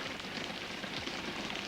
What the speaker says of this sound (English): this rain's been hanging around coming and going all day, but it looks pretty set in now